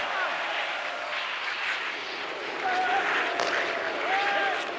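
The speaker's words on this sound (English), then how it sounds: "Provorov's really hearing it from the home crowd right now" A virtual hockey arena crowd in NHL 25 jeers and roars during a Columbus Blue Jackets versus Florida Panthers game, a broad, sustained swell of crowd noise with faint whistles and shouts, rising louder in the second half.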